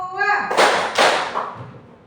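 Children in a group clapping game strike two sharp, loud unison claps about half a second apart, following a brief spoken voice at the start, with the ring of the room trailing after.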